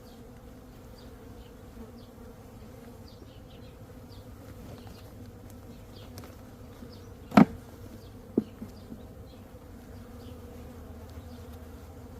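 Honey bees buzz softly and steadily during a hive check while a second brood box is added and mites are treated, with two brief sharp knocks.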